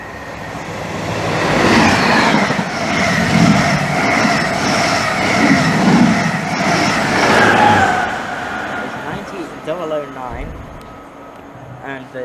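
A Norwich-bound passenger train rumbles through Romford station with a continuous clattering roar, close and loud, then fades as a person begins talking over the tail end.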